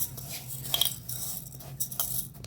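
Dry urad dal and rice grains stirred together in a bowl, a steady close rustle and clatter of grains with faint clinks against the bowl sides, no voices.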